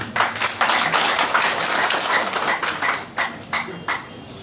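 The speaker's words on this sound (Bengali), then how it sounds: "আপনাদের কাছে করতালি আশা করছি।" An audience at a general meeting of a district restaurant owners' association in Sylhet claps in a dense burst of applause that thins into scattered claps over a few seconds.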